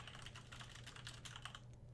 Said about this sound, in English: then I can click anywhere on our preview window up here and just start typing.